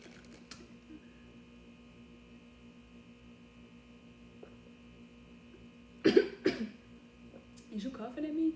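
Two sharp coughs in quick succession over a faint electrical hum, followed a moment later by a voice speaking nearby.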